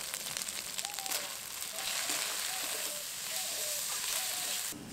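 Spices, including turmeric, red chilli powder and a spoonful of flour, frying in a pan for a cabbage and soya curry: a close, continuous crackling sizzle with faint squeaks from stirring.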